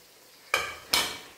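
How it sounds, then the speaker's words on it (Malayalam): Chopped tomatoes tipped into a pan of frying onions: two quick, bright sizzling bursts in close succession, each flaring loudly then fading into a soft hiss, with no voices. "ഇനി അതിലേക്ക് നമുക്ക് തക്കാളിപ്പഴ അരിഞ്ഞു വെച്ചത് ചേർത്ത് കൊടുക്കാം."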